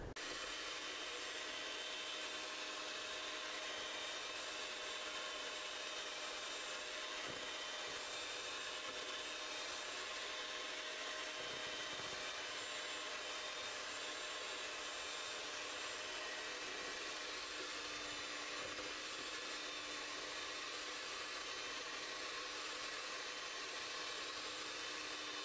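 An electric hand mixer beats egg whites for a gluten-free strawberry cake roll, a steady, fairly faint motor whirr that runs without a break and with no talking.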